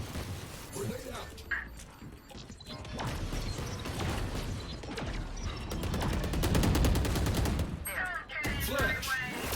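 A video game firefight: a grenade blast and rapid, dense gunfire crackle through a continuous barrage, with a voice talking over the action.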